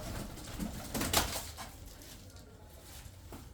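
Tumbler pigeons from Kırşehir, soft outdoor bird sounds with a brief flutter of wings over a steady noisy background, moderately close and fairly faint.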